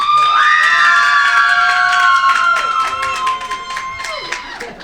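A crowd at a debate cheers and whoops loudly for the turkey as the more American bird, high shouts and screams dominating with clapping underneath, fading toward the end.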